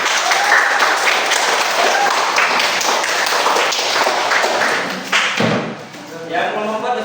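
A class applauds in a room with a dense burst of clapping that keeps going for several seconds, then thins out and fades.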